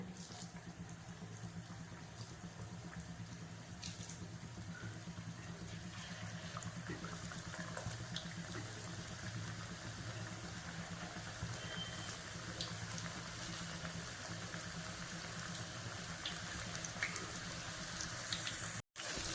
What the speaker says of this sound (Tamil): இப்போ நான் வந்து எண்ணெய் நல்லா ஒரு பேனில் ஊற்றிருக்கேன்.